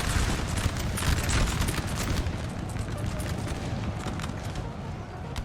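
Musket volley fire from massed infantry lines in a Napoleon Total War battle, a dense continuous crackle of distant shots over rumbling battlefield noise, heard without talk.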